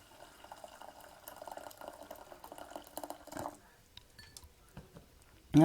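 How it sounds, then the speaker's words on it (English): Boiling water poured from a kettle into a saucepan makes a soft, steady trickle and splash for a few seconds, then thins to scattered drips before a sharp clatter at the end. "I'm now going to put boiling water"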